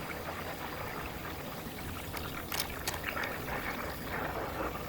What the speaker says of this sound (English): I can hear it draining down to the other levels.